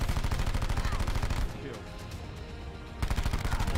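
Rapid bursts of gunfire from the Annihilator pistol in Black Ops 4, loud and dense, dropping to a quieter stretch midway before the heavy shooting resumes.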